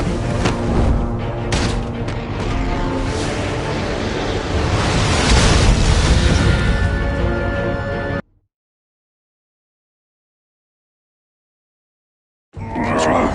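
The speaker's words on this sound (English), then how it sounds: "Use Riddler's trap to protect Iman and myself from the explosion" A loud, roaring explosion in Batman: The Enemy Within, a sustained rumbling blast lasting several seconds that swells before cutting abruptly to silence, then returning.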